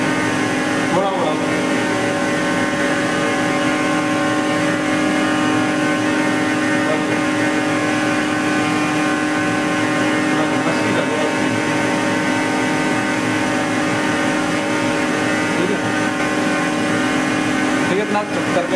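Engine drives a Danfoss 90R250 hydraulic pump on a test rig after repair, running steadily as a loud, continuous drone with tonal whine throughout, under reduced flow and load.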